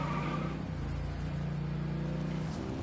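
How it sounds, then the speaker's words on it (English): A car engine in Genshin Impact drones steadily and loudly, with the revs climbing and shifting briefly near the end. "Rev the engines!"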